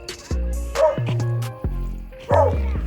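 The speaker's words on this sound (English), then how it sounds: "That dog literally just ran out of that baby's house and started running after me." A dog on an abandoned street in Salento barks several times in quick bursts, loud and close, chasing someone on foot, with whimpering yips between barks.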